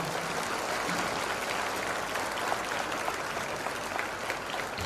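A gathered audience in Siddipet claps for a teacher, a sustained wash of many hands from a sizable crowd, steady and moderately distant, with no clear speech above it.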